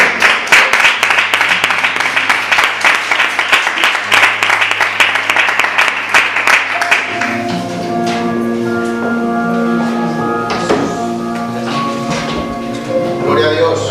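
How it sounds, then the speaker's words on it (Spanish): A church congregation applauds with dense, rhythmic clapping over a sustained keyboard chord for about seven seconds, then the clapping fades as organ-like music continues alone. "Así que le damos otro aplauso al Señor y dejamos al hermano."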